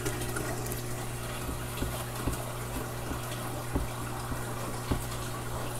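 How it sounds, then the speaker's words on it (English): Water flowing steadily through a filter tube in an aquarium sump, a continuous even wash over a low pump hum, with faint soft ticks recurring every second or so. "The water's gonna flow through here"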